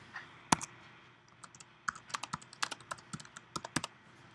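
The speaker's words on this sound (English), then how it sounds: "I'm going to type in rule of thirds. I'm going to do it in caps." Keys clack on a computer keyboard while a caps phrase is typed in Photoshop, a single loud tap followed by a pause, then a quick run of crisp, close keystrokes with no voices.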